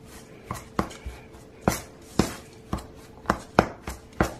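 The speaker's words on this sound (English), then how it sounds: "I just tend to use my hands and just kind of blend it in" Soft butter worked by hand into an apple crisp topping, with close, irregular soft thuds and squishing pats at an uneven rhythm and no talk.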